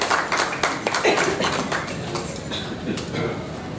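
Audience clapping at a medical scientific session on hypertension, a dense, fairly loud patter of many hands that stays steady for a few seconds in a hall.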